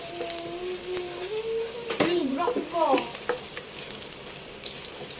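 Garlic and onion hit hot oil in a pan after tofu, sending up a bright, steady sizzle with stirring scrapes, as a voice speaks briefly partway through.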